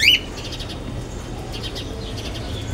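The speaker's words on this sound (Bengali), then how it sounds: "আর ককাটেল পাখির ডাকটা কিন্তু আসলেই অসাধারণ" A pet cockatiel in a balcony bird house gives a sharp call at the start, followed by softer repeated chirps at moderate distance, with no talking.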